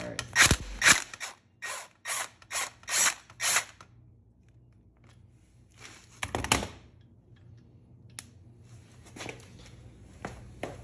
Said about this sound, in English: We're just gonna loosen this pinch bolt, because if we don't loosen that pinch bolt, you can't slide the axle out.